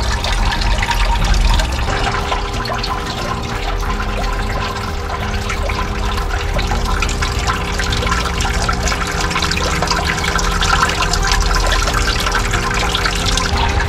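Continuous rushing, gurgling water flows steadily at close range while panning for gold, with trickling and splashing throughout and no voices.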